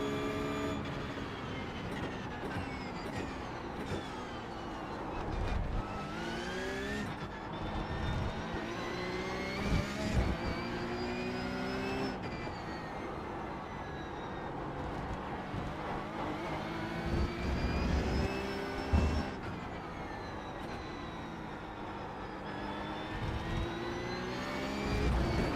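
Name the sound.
McLaren car engine revving in racing video game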